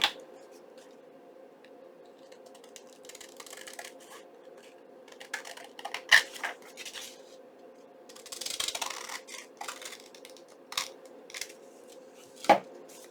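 Paper trimmed by hand while crafting an envelope flip with a pocket and tags, scattered soft snips, crinkles and light taps over a faint steady hum, with a brief louder rustle midway.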